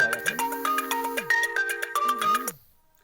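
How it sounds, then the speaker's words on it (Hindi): A phone ringtone for an incoming call plays a bright, repeating electronic melody for about two and a half seconds, clear and close, then cuts off. "इसको कोई फोन आ रहा है"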